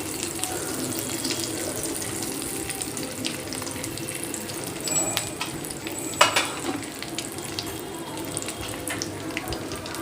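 Mustard seeds splutter in hot oil with curry leaves in a pan, making a steady crackling sizzle with scattered sharp pops and a louder burst partway through, with no voices.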